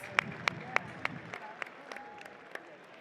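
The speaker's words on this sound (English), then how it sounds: "So give yourself a round of applause." A robotics regional competition audience gives scattered applause: a handful of distinct, well-spaced claps in a large hall that thin out and fade within a few seconds.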